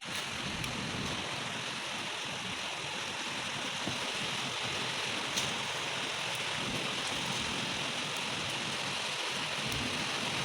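Heavy rain pours steadily at night around 10 pm after a hot spell, a dense, even roar of drops close by with no letup and no voices.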